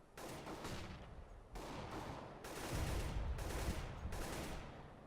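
Rapid bursts of gunfire from a Counter-Strike match at a Germany versus Kazakhstan European Championship, sustained volleys with short gaps, growing heavier and denser toward the end.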